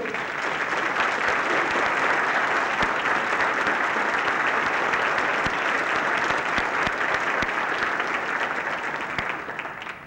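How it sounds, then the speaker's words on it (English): A round of applause at a 1994 university fall convocation, a dense, loud, sustained clapping from a large audience that carries on for about ten seconds before starting to fade. "I think a round of applause is in order"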